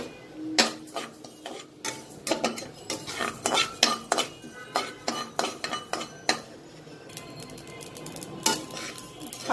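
Coriander and five-spice seeds dry-roasting in a frying pan for mango pickle, heard as a spoon stirring with many sharp clinks and scrapes against the pan, irregular and close, over a faint sizzle.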